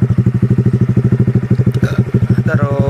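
A Honda Supra X 125 FI motorcycle fitted with a racing exhaust idles with a loud, close, rapid thumping pulse that stays steady throughout, with a couple of brief clicks and a short tonal squeal near the end.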